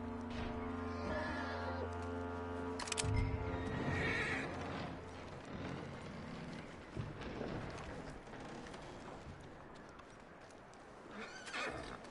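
A horse whinnies loudly in the video game Red Dead Redemption 2 among hoof clip-clops and low ambient drone, with more neighing and stamping toward the end.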